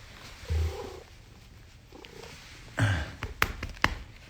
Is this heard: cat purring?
yes